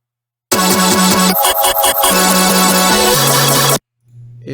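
A resampled Quanta synth sample run through a Cage Ensemble effect for a colour bass drop bursts in loud and bright, with a few rhythmic stuttered chops midway, then sustained buzzy tones that cut off abruptly.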